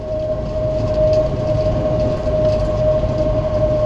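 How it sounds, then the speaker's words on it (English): A long tank train with buffer cars passes through the Clovis, New Mexico train yards, a loud, steady rolling rumble with a sustained tonal whine throughout. "A lot of buffer cars on this tank train."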